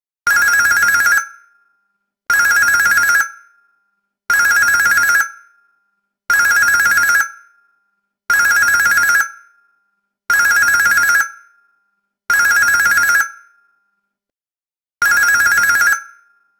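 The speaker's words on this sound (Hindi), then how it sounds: "इस टेलीफोन की तो लाइन ही कटी हुई है। फिर इसकी घंटी बज कैसे रही है?" An old-style telephone bell rings loud and close, eight long trilling bursts with regular pauses between them, the last after a slightly longer gap.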